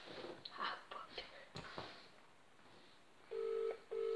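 During a prank call, a telephone ring tone sounds in two short bursts after quiet murmured voices and rustling, faint and close.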